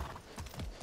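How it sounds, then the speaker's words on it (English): Horse hooves clip-clopping at a gallop in the Far Cry 6 video game, a quick rhythmic series of thuds close by, with a brief whinny-like note and no talk. "I'm gonna take this horse if we can."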